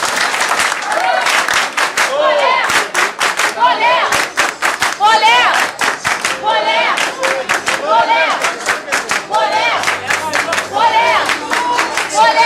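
An audience at a high school philosophy event in France claps loudly and unevenly, crisp hand claps mixed with cheering and excited voices shouting over them, continuing strongly from start to finish.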